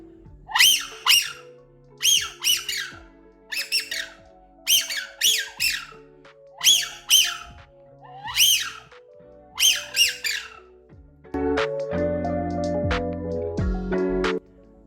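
A wigeon drake whistle imitated on a Kynat "Lyyir" wind duck call: repeated paired whistles, high and sharp, in a steady rhythm, followed by a buzzy, lower reed call near the end.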